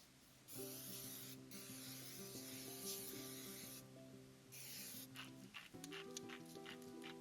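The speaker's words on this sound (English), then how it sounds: "I just use some cooking spray on them." Steady hissing spray bursts from a can of cooking spray, two long sprays separated by a brief pause, close and fairly loud.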